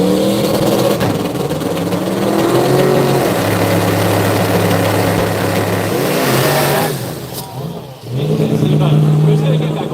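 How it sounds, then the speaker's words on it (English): Two drag racing cars at a Brisbane jamboree idle loudly down the track, a continuous rumbling engine drone with shifting pitch and a brief dip near the end, heard under a commentator's voice. "they're just both idling down the track"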